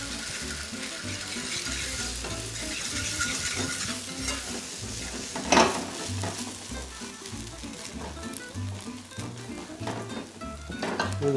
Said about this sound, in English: at this point we just keep moving the eggs around